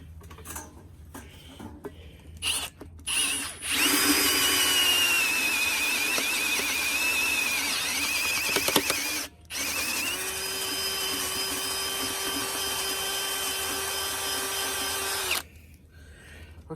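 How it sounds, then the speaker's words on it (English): A power drill bores holes to mount a bench vise, sounding as two long, loud whining runs separated by a brief stop. Short bursts at the start precede the runs, and it falls quiet at the end. "See the drill? Still good."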